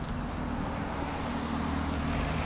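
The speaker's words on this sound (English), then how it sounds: "There's a BMW, it's about to run you over." A BMW car passes close by on a road amid other vehicles near a canal, producing a steady, loud engine and tyre rumble that stays continuous throughout without any voices.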